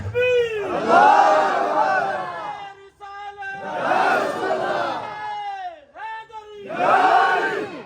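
Large crowd chanting a religious slogan (naara) in unison, three loud swelling shouted calls separated by short pauses, ringing in a reverberant gathering space.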